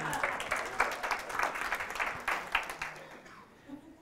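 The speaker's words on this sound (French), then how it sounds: "On applaudit." A conference audience claps briefly, a moderate scattered burst of applause that thins and fades out after about three seconds.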